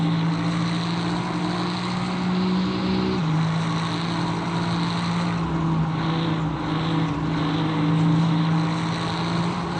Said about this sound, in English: It just sounds so throaty and wonderful, that Ferrari.